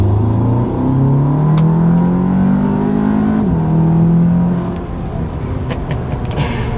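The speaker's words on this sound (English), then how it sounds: "So we'll do another acceleration." An Audi S3 fitted with an MST Performance cold air intake accelerates hard, its engine note climbing steadily through the gears with a brief dip at a shift, then easing off into a lower rumble near the end.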